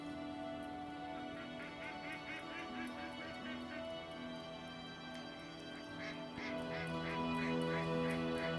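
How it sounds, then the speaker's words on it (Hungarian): Ducks quack in bursts in the hunting game Way of the Hunter, heard as repeated calls over a steady wilderness ambience and background music, with someone talking over them. "Itt vannak a kacsákok."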